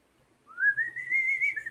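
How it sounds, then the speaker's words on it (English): The Proto Man whistle from a Mega Man video game plays as a single clear melodic whistled tune that rises and holds, bright and prominent over near silence. "that's the fucking Proto Man whistle"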